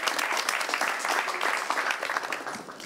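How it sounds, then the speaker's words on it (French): A studio audience at a talk show applauds as a participant walks up, a loud, dense and sustained round of clapping that eases slightly toward the end. "On l'applaudit pendant qu'elle arrive."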